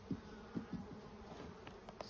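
Honeybees on a brood frame buzz steadily at close range during hive work, with a few louder passes of individual bees rising briefly above the hum.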